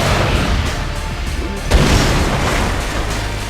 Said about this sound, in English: Missiles ready for launch.